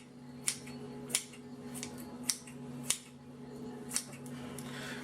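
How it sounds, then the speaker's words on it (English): Scissors snip through extra skin on the back of a whole turkey being prepared for smoking, about six crisp separate cuts spaced unevenly, close and moderately quiet. "We're going to go ahead and we're going to cut this off as well."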